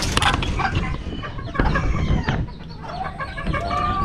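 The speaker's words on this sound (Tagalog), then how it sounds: "pakainin muna natin mga manok." Chickens cluck and chatter continuously nearby, with a few higher squawks mixed in and a busy farmyard background.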